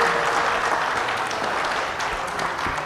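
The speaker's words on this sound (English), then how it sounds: "Let's have a big round of applause for the wonderful panel." An audience at a military literature festival in Chandigarh gives a panel a big round of applause: dense, steady clapping that stays loud and even for the whole stretch, with no talking over it.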